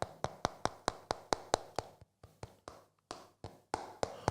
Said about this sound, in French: c'était le bruit des ongles sur le téléphone